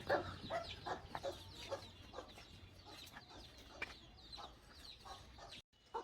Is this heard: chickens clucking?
yes